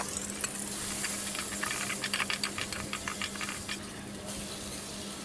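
Ginger-garlic paste frying with onions, cinnamon, cardamom and bay leaves for beef biryani, a steady close sizzle with bursts of stirring scrapes in the middle, then settling back to hiss.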